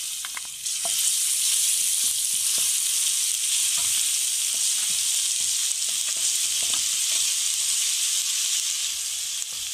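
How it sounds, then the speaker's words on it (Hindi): Garlic sizzles and hisses steadily in hot oil with cumin in a kadhai, a loud continuous fry with occasional light taps of stirring. "इसमें अब हम लहसुन डाल देंगे पहले।"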